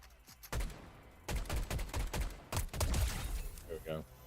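Video game gunfire in rapid bursts of sharp shots, loud and close, with a player's voice occasionally talking over the action.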